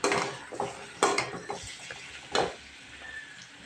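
Utensil scrapes and clinks against a pan as onions and tomatoes are stirred while frying, several sharp knocks spaced irregularly over a soft background sizzle, close and fairly quiet, with no talking.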